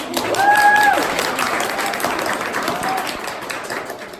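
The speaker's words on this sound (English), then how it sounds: "And let's give another round of applause for LpsCon" An audience at a live LpsCon panel applauds, a sustained crowd clapping at steady volume with a few brief tonal squeaks in the background.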